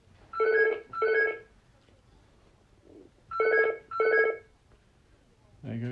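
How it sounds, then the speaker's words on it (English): A telephone rings in two distinct double-ring bursts separated by a pause, loud and close indoors, with a brief sound of movement between them and a voice starting at the end. "There goes the phone."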